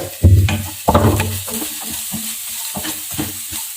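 Garlic, ginger and onion tossed in a frying pan, opening with two loud, close scraping strokes, then softer, irregular stirring over a light sizzle.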